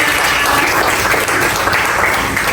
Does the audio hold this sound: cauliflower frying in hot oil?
no